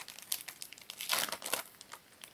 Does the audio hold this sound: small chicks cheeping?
no